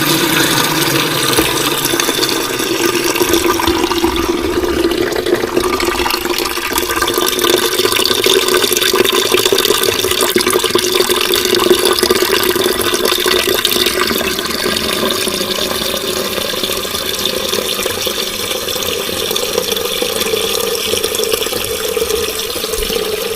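Water steadily flushing coolant out of a Mazda MX5 Mk1 cooling system, a continuous loud rushing and splashing stream that runs unbroken for the whole stretch with no talk.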